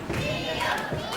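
Wrestling crowd at a No Limits Championship match cheering and roaring for Leon Slater and Safire, a dense, steady wall of voices with scattered shouts throughout.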